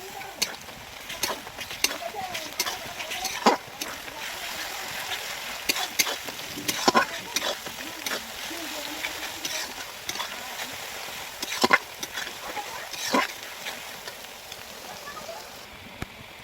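A steady crackling sizzle of garlic paste frying with browned onions in a pan, with scattered sharper pops and faint clatter.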